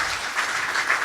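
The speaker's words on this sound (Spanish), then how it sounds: "un aplauso para este equipo uruguayo que nos ha apoyado infinitamente." An audience at a Uruguayan conference applauds a team, a dense, even wash of clapping that lasts the whole brief moment.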